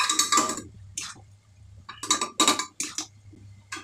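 Mutton curry is moved into a pressure cooker with a series of loud metallic clinks and scrapes of a spoon against pots, irregular bursts separated by brief pauses.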